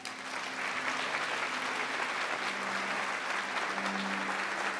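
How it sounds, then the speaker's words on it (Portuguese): Congregation applauding at a church service, a steady, even wash of many hands clapping throughout, with a faint hum underneath. "Você pode aplaudir Jesus?"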